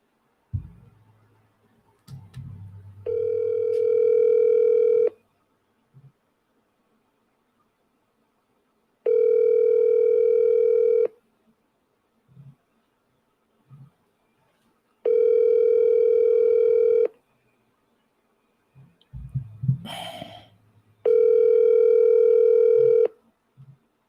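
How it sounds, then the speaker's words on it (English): A telephone line gives four steady, loud dial-tone bursts separated by silences, with brief dialing clicks and handset handling noises between them and no voices. "So I'm going to call him back again."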